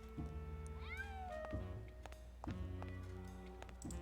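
Cats meowing in the video game Grim Fandango, a drawn-out rising and falling meow amid game music with a steady plucked rhythm, moderately close and without talking.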